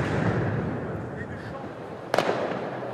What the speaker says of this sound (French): Ils sont munis d'engins pyrotechniques.